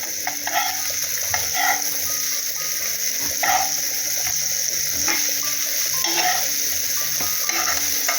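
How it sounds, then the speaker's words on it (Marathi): Small mandeli fish pan-fry in oil over a low gas flame, giving a steady close sizzle broken by clinks and scrapes of a utensil in the pan, under a constant background hum. "जास्त फास्ट गॅसवर नाही भाजायचे बारीक गॅसवर भाजायचे"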